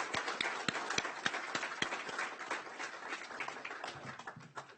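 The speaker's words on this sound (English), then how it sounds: "And a round of applause for Anuradha Mittal." Conference audience applauds a keynote speaker, Anuradha Mittal, with a dense patter of clapping that starts strong with sharp individual claps and gradually thins and fades over several seconds.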